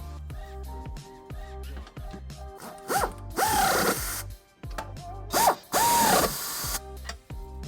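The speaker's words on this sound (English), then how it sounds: "with our nuts in place and hand tight, we can snug them up using an 11/16 socket." A ratchet with an 11/16 socket snugs up trailer hitch nuts on a 2017 Kia Optima, giving repeated close metallic clicking strokes broken by louder bursts of grinding, rising tool noise.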